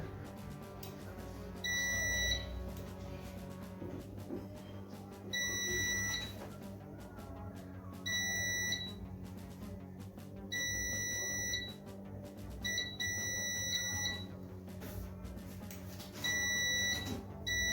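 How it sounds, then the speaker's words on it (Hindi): Repeated short multimeter continuity-test beeps in bursts of about a second, recurring every few seconds while probing a Redmi 9 Power phone board, over a faint background hum and room noise. "तो आप सुन सकते हैं मल्टीमीटर को"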